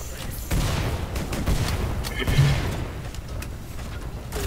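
Grenades bursting in a chaotic multiplayer video game match, several muffled booms and rumbling blasts layered over constant game noise.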